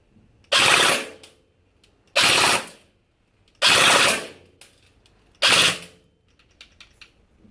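A CELCIUS training AKM, an AK-47 training weapon, fires four short full-auto bursts. Each is a loud, rapid mechanical rattle lasting about half a second, separated by evenly spaced pauses of roughly a second, with no talk.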